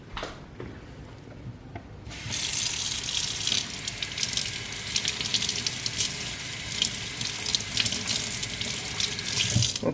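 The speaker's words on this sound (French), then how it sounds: "On va essayer de le rincer pour voir ce que ça donne." Running tap water splashes over an item being rinsed in a sink, starting quietly for the first two seconds, then a steady, loud gush with faint rubbing for the rest.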